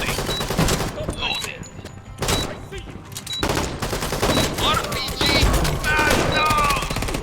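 Heavy volleys of rifle and shotgun fire from M16s in a Door Kickers 2 tactical assault, loud bursts separated by brief pauses, with layered in-game chatter.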